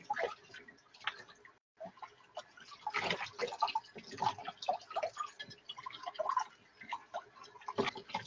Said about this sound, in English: You just now take and run it under water to get all the etching paste off.